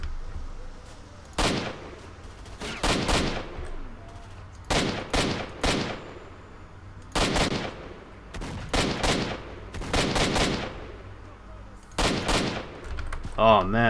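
Automatic AK rifle fire in the video game S.T.A.L.K.E.R. Shadow of Chernobyl, loud short bursts and single shots repeated across the stretch with brief pauses between volleys.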